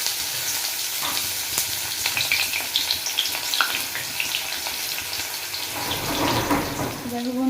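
Chopped onion hits hot oil in a pan while cooking egg tarka, giving a steady, loud sizzle and crackle that swells further near the end, with no talking.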